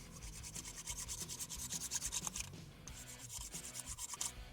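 An old wooden stick that lay outdoors for a long time is rubbed and scrubbed clean with quick back-and-forth strokes, a close rhythmic scratchy rasping that pauses briefly midway before the strokes resume.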